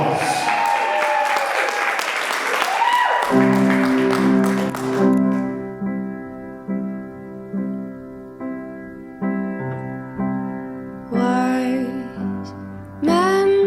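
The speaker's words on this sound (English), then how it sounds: "give a nice big round of applause" A wedding crowd applauds the first dance, loud clapping filling the first few seconds before fading out as a slow sung love song with piano begins and continues underneath.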